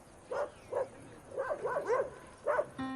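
A small brown puppy barks and yips in a series of short, high calls spaced across a few seconds, fairly close and clear, with light background noise and no talking.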